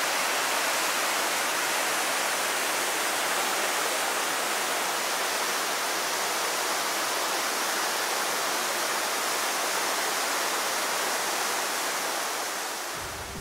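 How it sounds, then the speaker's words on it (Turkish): A cascading waterfall in Rize, Turkey, roars in a dense, unbroken rush of water, loud and steady throughout with no other sounds. "Çağıl çağıl çağlayan şelalelerine dönüşür."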